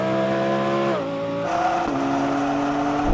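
A BMW M3 and an Audi R8 GT accelerate hard in a drag race, engines roaring loud and close with rising pitch, a sharp gear-change drop, then climbing again.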